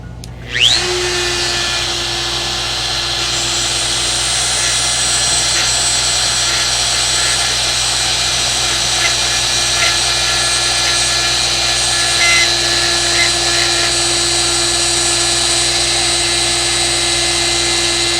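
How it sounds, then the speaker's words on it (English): Router with the bit set just under 1/8 inch cuts an inlay channel for abalone in a modified Explorer-style guitar body, a loud, steady high whine that starts abruptly and runs unbroken. "now I got my router bit set just under 1/8 of an inch to make this line"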